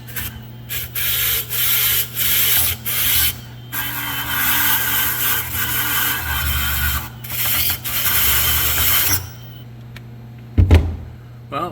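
A brushless Hyper Tough die grinder fitted with an accessory on an adapter runs in loud, rough, abrasive bursts, switching on and off repeatedly, before falling quiet and ending with a short knock.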